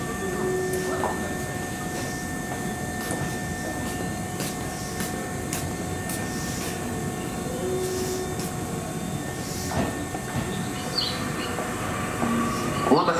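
A train on the Tobu Noda or Isesaki line rumbles into a Japanese station platform late at night, with a steady loud rolling drone, faint wheel squeals and brief clunks.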